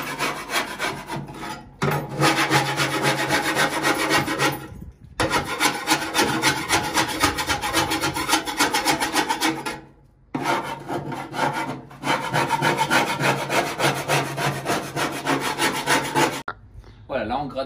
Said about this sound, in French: Voilà, là on gratte bien, on nettoie bien l'intérieur.